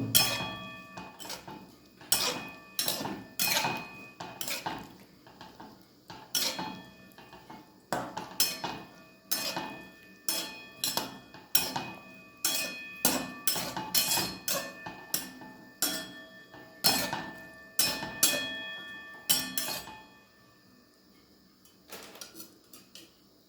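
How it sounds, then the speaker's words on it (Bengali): Bitter gourd and potato curry being stirred in a pan, with a spoon repeatedly scraping and clinking against the metal in a steady, uneven rhythm of close, sharp knocks for about twenty seconds before it stops. "এটা খুব ভালো করে নাড়িয়ে নেব"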